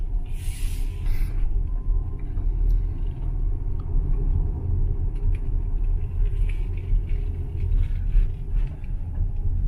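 A 2017 Tesla Model X 75D all-wheel-drive electric SUV drives along quietly, mostly low road rumble and tyre noise with faint higher hiss, no strong engine sound.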